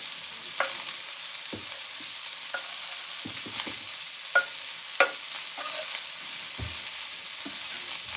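Egyptian sausage mixture stirred and frying in a pan: a constant soft sizzle punctuated by repeated clicks and scrapes of the utensil against the pan, close and fairly quiet.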